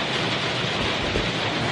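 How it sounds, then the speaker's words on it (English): Hail falls outside, a dense, continuous hiss and patter of many small impacts, steady and fairly loud with no pauses. "It's hailing."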